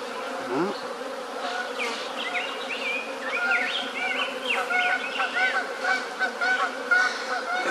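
Agitated honey bees buzz loudly and continuously while being moved into a new hive, a dense steady drone with rising and falling whines close by; a voice speaks briefly at one point.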